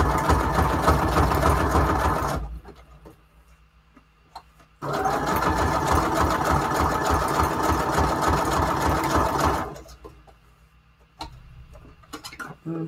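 A sewing machine stitches layered junk journal embellishments in two long loud runs separated by a quiet pause, then starts again briefly at the end, with a steady rapid mechanical whir.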